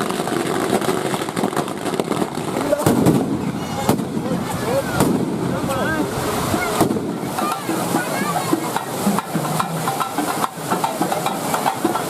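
Firecrackers crackle and pop in sharp, irregular bursts during a village celebration at Kavanur lake, mixed with steady drumming and the noisy commotion of a crowd outdoors.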